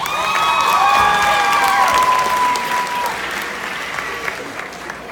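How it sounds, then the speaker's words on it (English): Graduates in caps and gowns applaud at a high school graduation, broad crowd clapping with scattered cheers and high whistles at first, the clapping loud and full before gradually thinning out. "So in the future, give yourselves a round of applause."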